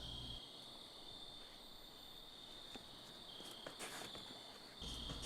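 Steady high-pitched crickets chirp continuously in a quiet outdoor night, with faint soft background hiss and no voices.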